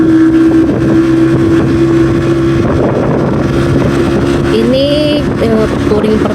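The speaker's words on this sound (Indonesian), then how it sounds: "kita menggunakan motor roda 3" A three-wheeled motorcycle rides along a road with a loud, steady engine drone, wind rushing over the microphone, and a rising pitch toward the end.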